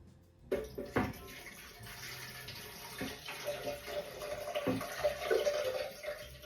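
Filtered water poured into a blender jar for homemade almond milk, a soft steady splashing stream after a few clinks and knocks at the start, close and fairly quiet.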